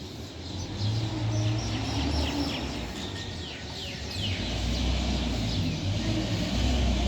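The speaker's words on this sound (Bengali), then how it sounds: "ট্রাকের শব্দ শুরু হয়ে গেছে।" Truck traffic rumbles low and steady in the distance at early morning, swelling and easing as vehicles pass, while birds chirp and tweet brightly over it.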